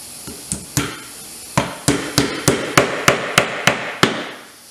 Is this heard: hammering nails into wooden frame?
yes